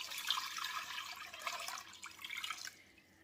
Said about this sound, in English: to that, I'm going to add 4 cups of water